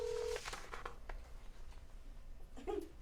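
Telephone keypad tones beep as a call is placed, with a steady held tone at the start followed by a few short dialing beeps, fairly quiet over a faint background.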